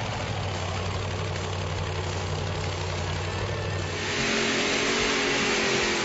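A pulling tractor with three engines coupled in line crank to crank, running with a loud steady low rumble that swells louder and rougher near the end, close by with no talking.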